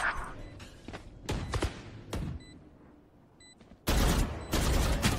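Gunfire in the Valorant shooter during an eco round, with several sharp shots spaced out early, a quiet gap, then a dense, loud burst of rapid fire near the end; no talk.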